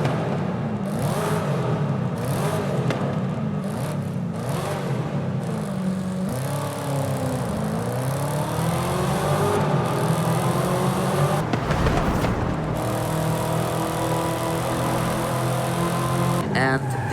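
A Chevy car in Forza Horizon 5 drives through a tunnel, its engine revving and climbing through gears in repeated surging sweeps, loud and echoing, with a voice speaking briefly over it.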